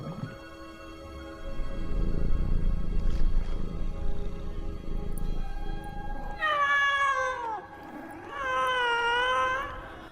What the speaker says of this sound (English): it's impossible to get a cat to turn its head back and forth and meow